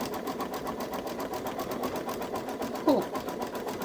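A Baby Lock Solaris embroidery machine stitches a zigzag around an in-the-hoop Easter bunny basket, giving a quick, even mechanical chatter with a brief clack partway through.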